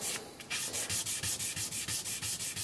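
Guitar frets sanded with fine grit sandpaper, a close, steady back-and-forth rasp of about a dozen even strokes with no talk.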